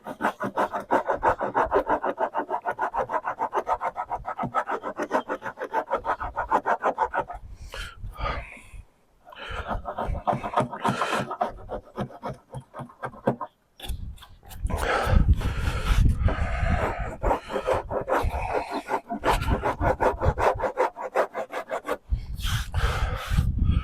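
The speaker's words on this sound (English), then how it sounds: "then we can get our sanding block out and whittle away" A sanding block rasps back and forth over body filler in long, steady strokes, close and loud, with a few short pauses and occasional barks in the background.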